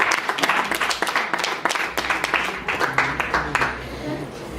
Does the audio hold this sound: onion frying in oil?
no